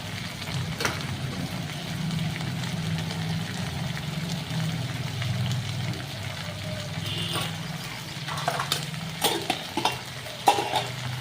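Red chili, turmeric and coriander powders with salt roast in a pan for a bottle gourd dish, giving a low, steady sizzle with soft stirring. A few sharp utensil clinks come near the end.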